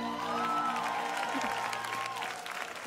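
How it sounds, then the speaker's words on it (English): Church congregation applauds a worship team after a service song, a steady wash of clapping with some cheering and a sustained musical tone underneath, fading slightly toward the end. "Clap for the amazing worship team."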